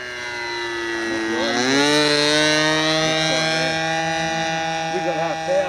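A light aircraft engine runs at reduced power on a downwind landing approach, a loud steady harmonic drone whose pitch rises and wavers, with a voice speaking briefly over it near the end.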